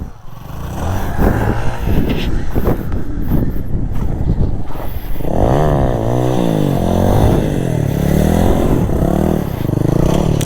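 A motorcycle revving during wheelie stunt practice, its engine rising and falling in repeated surges close by, mixed with heavy wind buffeting and scraping noise.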